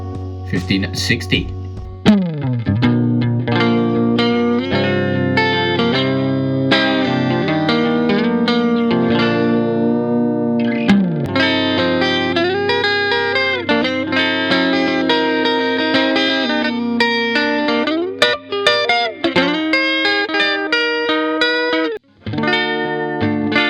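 Electric guitar through a stock amp sim and an iZotope Vinyl plugin with warp depth at 60 plays continuously and loud, its pitch wobbling and warping like a bent record, with a short pause near the end.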